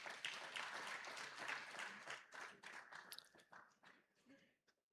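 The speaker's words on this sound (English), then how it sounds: "Please give them one more round of applause." Audience applause at a formal Nigerian energy summit opening ceremony: a steady wash of many hands clapping that thins out and fades to a few scattered claps before stopping.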